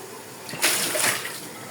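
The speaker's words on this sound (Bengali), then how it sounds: "পানিটা ফেলে দিলাম," Water being poured off beef, a short gushing splash of liquid that swells for about half a second, close and fairly loud.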